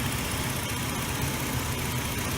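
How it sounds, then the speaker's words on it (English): A 2001 Ford Explorer engine, recently revived after sitting for a while, runs with a steady, even drone and low rumble throughout, fairly close and with no clear rise in revs. "I revved the piss out of this motor"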